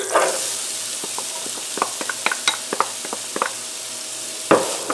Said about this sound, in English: I'm going to go ahead now and add my 1 cup of minced onion